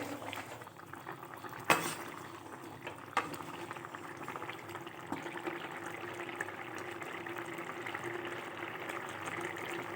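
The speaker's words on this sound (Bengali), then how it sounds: "আর একটু ফুটে গেলেই আমি নামিয়ে নেব" A pan of paneer curry bubbles steadily at a rolling boil, a dense wet burble heard up close, with a couple of sharp clinks early on and no talking.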